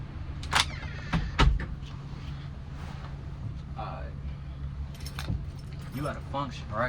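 Keys jangle in short metallic bursts, a few brief clusters close by, with someone talking in between.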